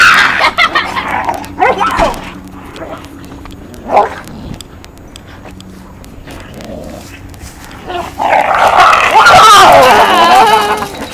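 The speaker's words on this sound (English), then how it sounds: "What you doing, dog fight?" Dogs snarl, yelp and whimper in a scuffle, with bursts of barking, a loud frantic flare-up at the end, and people speaking over it.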